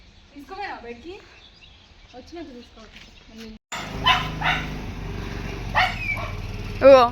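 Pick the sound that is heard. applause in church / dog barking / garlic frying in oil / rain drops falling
dog barking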